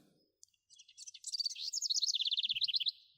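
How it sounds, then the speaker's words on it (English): Birds chirp in a quick, close run of high tweets that build into a rapid trilling series, clear against silence with no other sound. "especially when it comes to these sounds of the birds there"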